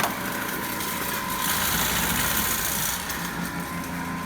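DC motor running steadily at 1720 rpm in an electrical machines lab, a constant whirring hum with a high whine, even and continuous, no talk.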